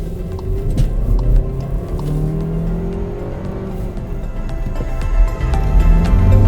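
A Seat Ateca 2.0 TSI 190 hp petrol SUV with DSG gearbox drones steadily under acceleration, a low sustained hum with rising tones, heard from inside with no talking.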